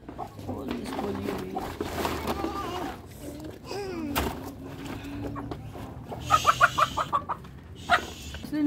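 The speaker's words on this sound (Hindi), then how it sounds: "तीन मुर्गियाँ और एक मुर्गा है" Hens and a rooster cluck and call in a backyard coop, a series of close, repeated clucks growing busier toward the end, with a person talking over them.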